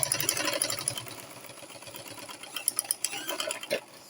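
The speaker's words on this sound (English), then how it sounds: "So we want to quickly start stitching now." A sewing machine runs steadily while stitching corset fabric, its close whirring hum broken near the end by a few quick clicking stitches.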